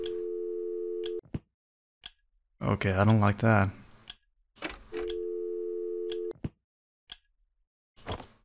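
A telephone line tone in The Mirror Lied game sounds as a steady buzzing beep, heard twice for about a second each, clear and alone, with a person talking briefly between them and scattered clicks.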